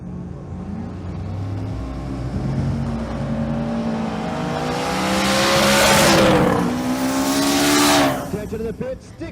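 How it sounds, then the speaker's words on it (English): A stick shift drag race car accelerates down the track at a raceway, its engine rising in pitch through the gears and growing louder before fading away, with a commentator talking over it. "Here's Tess Wood out of the stick shift class, running her fast pass"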